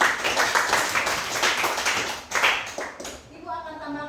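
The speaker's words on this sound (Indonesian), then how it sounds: "Ya, tepuk tangan untuk Adi." A classroom audience claps for a student named Adi, a fairly loud, dense burst that fades out, followed by a voice beginning to speak.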